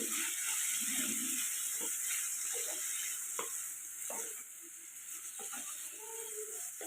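Ivy gourd pieces with turmeric are stirred in a frying pan, quiet scraping strokes and soft clatters over a steady low sizzle, with no talking.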